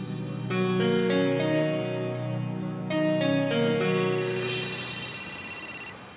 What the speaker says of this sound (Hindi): यहाँ मुझे एक लतिका को फोन करना है।